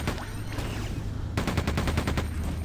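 Shotgun blasts in the first-person shooter Quake II, a rapid run of sharp, punchy game gunshots that come closer together toward the end over steady background game ambience.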